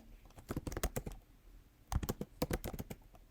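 Typing on a computer keyboard: quick, close clicking keystrokes in two short bursts separated by a brief pause, with no talking.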